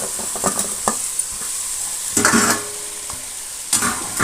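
Carrots, beans, capsicum and potatoes being stirred in a frying pan for a capsicum biryani, a steady sizzle with repeated scraping strokes, loudest in bursts at the start, middle and end, close by with no talk.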